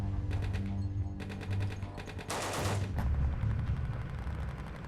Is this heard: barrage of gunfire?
yes